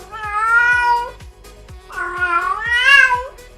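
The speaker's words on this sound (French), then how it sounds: "Ça va vraiment être des miaulements beaucoup plus court, vraiment tout choupinou." A cat giving short, cute meows, two drawn-out mewing calls with a pause between them, close and clear over a soft rhythmic background patter.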